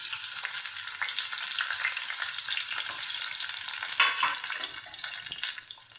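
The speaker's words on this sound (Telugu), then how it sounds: "ఆయిల్ మరిగింది కదా, ఉల్లిపాయలు కట్ చేసుకున్నాం కదా వేసేసుకుంటున్నాం" Chopped onions frying in hot oil in a pan for mutton keema curry, giving a loud, continuous close-up sizzle with crackles and occasional stirring scrapes.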